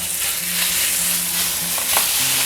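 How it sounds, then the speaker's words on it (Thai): Minced pork stir-fried in oil in a hot wok makes a loud, continuous hissing sizzle, with spatula scrapes and stirring strokes close up throughout. "ผมก็จะใส่ หมูที่เราสับไว้นะครับ ที่เราซื้อมาลงไปเลยครับผัดเลยนะครับ"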